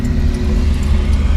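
A 1967 Mercury Cougar XR7 engine on the road, a loud, close, continuous low rumble with slight fluctuations in level as the car drives, and no talk over it.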